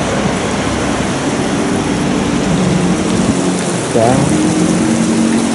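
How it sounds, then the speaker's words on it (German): Waterfall on a hiking trail in Taroko National Park, Taiwan, giving a loud, steady broadband roar of falling water throughout, with a brief voice near the end. "wieder unter einem Wasserfall"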